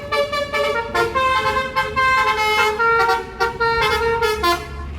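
An NPM intercity bus (unit V63, Sultan Class) arrives at a terminal, blaring a loud, multi-tone musical air horn in a rapid series of repeated honks over engine rumble, with no talking.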